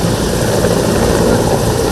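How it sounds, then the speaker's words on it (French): A helicopter carrying the president of the Republic lands at Kinkala, its rotor and engine roaring loud and close in a steady, unbroken wash of noise with no voices. "l'hélicoptère transportant le président de la République a foulé le sol de Kinkala"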